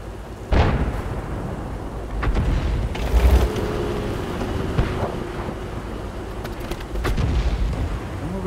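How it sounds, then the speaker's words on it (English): Heavy booming gunfire in a tank battle video game, several loud cannon shots spaced apart with rumbling echoes between them, no talking. "someone firing at us?"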